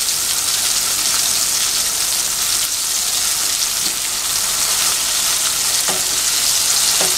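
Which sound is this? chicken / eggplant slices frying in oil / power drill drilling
eggplant slices frying in oil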